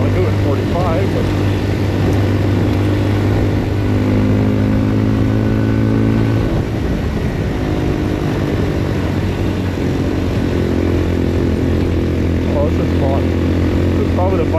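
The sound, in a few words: Papio SS mini-moto motorcycle engine pulling up a hill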